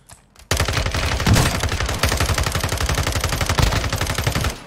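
Sustained automatic gunfire in a video game, a fast, dense stream of loud close shots starting suddenly after a brief quiet moment and continuing without pause.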